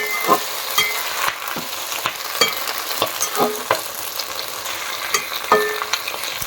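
Ingredients fry in hot oil in a home kitchen with a steady crackling sizzle, broken by repeated sharp scraping stirs that come roughly every half second to second.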